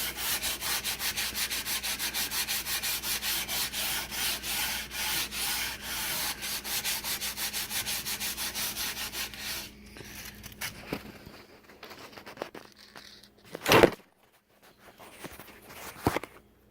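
Steady back-and-forth rasp of sandpaper on a sanding block cleaning up the wooden rails of a muzzleloader for about ten seconds, then it stops, leaving quiet with a couple of sharp knocks.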